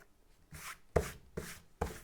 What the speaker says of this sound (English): So here I'm erasing these lines.